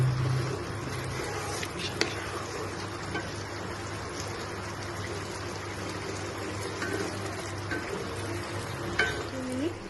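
Paneer masala is stirred in a pan over a gas flame, with a continuous wet, bubbling churn and scattered utensil scrapes and taps under a steady low hum, close and moderately loud.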